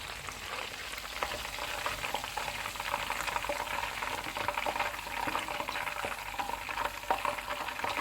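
Chicken pieces frying in oil on a low-to-medium flame for chicken dabu, a continuous dense crackling sizzle with scattered pops, close and steady throughout with no talking.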